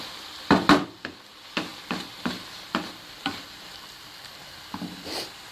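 Tadka cooks in a clay pot, giving a faint background sizzle broken by a series of sharp clacks and scrapes as a utensil stirs and taps against the pot.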